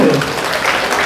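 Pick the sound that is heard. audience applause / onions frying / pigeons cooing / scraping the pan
audience applause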